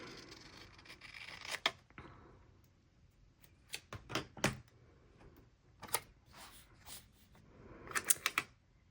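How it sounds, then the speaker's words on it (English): A planner sticker sheet being trimmed, with quiet irregular snips and crisp paper rustles in scattered bursts, close and faint, no talking. "we're gonna just trim this white part off the bottom"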